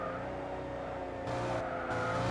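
A car engine in the video game Gran Turismo 6 hums at a steady pitch with a thin electronic quality, rising slightly partway through, fairly quiet and brief.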